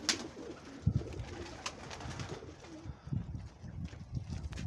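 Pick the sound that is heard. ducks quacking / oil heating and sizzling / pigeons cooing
pigeons cooing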